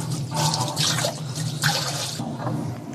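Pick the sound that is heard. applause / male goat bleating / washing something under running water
washing something under running water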